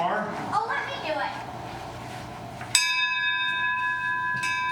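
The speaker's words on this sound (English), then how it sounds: "I'll ring the bell" A single bell is struck once partway through and rings on with a sustained ringing tone, coming after several voices talking over each other.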